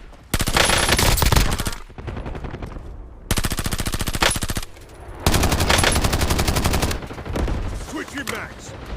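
Automatic gunfire in Call of Duty Warzone comes in several long, rapid bursts separated by brief pauses. The shots are loud and close, with softer shots and faint game sounds between the bursts.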